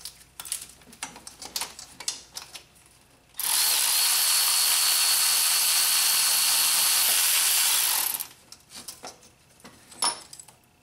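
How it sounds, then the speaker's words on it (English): A small electric ratchet spinning on the starter bolts of a Honda Accord with a 2.4L engine, one loud continuous whirring burst of about five seconds, framed by quieter clicks and handling noises. "a little electric ratchet sure helps"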